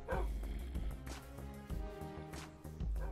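Dogs barking in the Minecraft video game, a few short yips and barks over a dense, continuous game soundscape, fairly faint.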